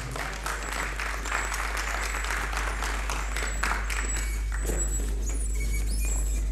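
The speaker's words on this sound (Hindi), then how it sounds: "भरपूर तालियां।" Audience clapping at a Lions Club get-together in a college hall, a steady patter of many hands throughout, moderately loud over a low constant hum.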